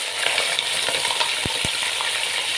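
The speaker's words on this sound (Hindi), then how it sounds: "अब ये गोश्त जब तक वाइट नहीं हो जाता तब तक हम भुनेंगे" Pieces of beef for a degi korma sizzle and fry in hot oil, giving a steady loud crackle with a couple of sharp spatters or stirring knocks partway through.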